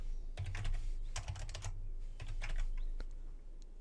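Keys clatter on a computer keyboard in quick bursts of typing, close and clear, with short pauses between runs of keystrokes and no talking.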